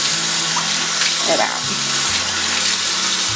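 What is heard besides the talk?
tap water running while rinsing makeup brushes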